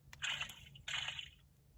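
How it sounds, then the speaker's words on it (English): A goldfish page in a children's sound book plays an electronic water splash: two short, bright, hissy bursts about half a second apart, close and fairly quiet. "Touch the goldfish's scales to hear a splash."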